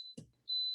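A pressure cooker beeps as it is set to start building pressure: a steady high electronic tone, a brief clatter, then the same tone again, loud and close.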